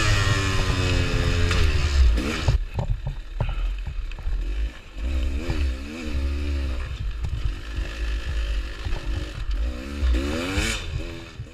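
KTM 1090 Adventure motorcycle ridden through sand on Arizona single track, a continuous engine drone rising and falling with throttle bursts, plus scrapes and clatter from the rough ground, close and steady.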